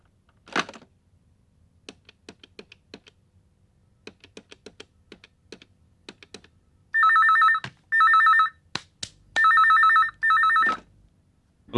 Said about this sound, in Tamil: மெட்ராஸுக்கு ஒரு ஃபோன் போட்டுக்கலாமா?